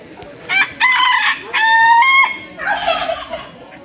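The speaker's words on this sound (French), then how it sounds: "Des brahmas." Brahma chickens crow and call at a poultry championship show in France, loud drawn-out harmonic cries close by, one after another over a murmuring hall background.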